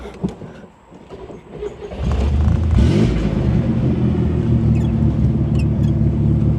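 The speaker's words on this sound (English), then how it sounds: "I'm pushing the clutch in and then I'm giving it a little rev" A Corvair engine idles roughly, then swells into a loud, sustained rev with the clutch pushed in, holding a steady growl near the microphone after a quieter, uneven start.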